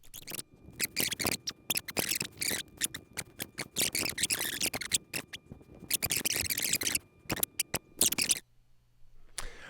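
A deck of cards being hyper-shuffled before a reading, rapid bursts of riffling and snapping close to the microphone, broken by brief pauses and ending abruptly.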